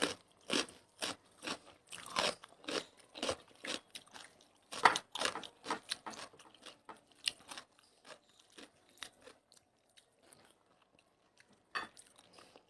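Someone eating extremely spicy fish curry with tangra, shol and mourola fish, giving close, irregular crunchy bites and chewing in bursts that thin out toward the end, with no talking.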